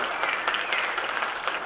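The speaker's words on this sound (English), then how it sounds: "I know we're preemptively applauding for him" Dense, lively applause from a jazz band concert audience cheering the drummer, a continuous wash of many hands clapping at close range.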